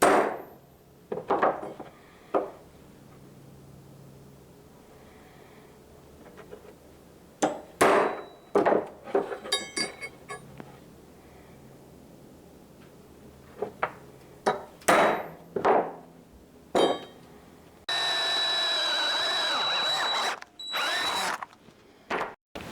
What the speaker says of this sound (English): A little hammer for a little punch mark.